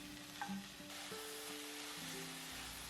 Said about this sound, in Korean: 소금과 후추로 간하면서 중간 불에서 볶아주세요